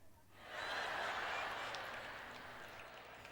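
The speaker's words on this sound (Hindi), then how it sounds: "फिर से आधा ताली।" Brief audience applause swells and then holds steady at a moderate level during a Joyce Meyer church teaching, a broad wash of hand claps with no voices over it.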